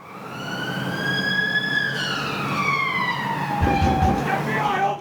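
A loud police siren wails outside, its pitch sliding down as it passes nearby, with traffic rumbling underneath.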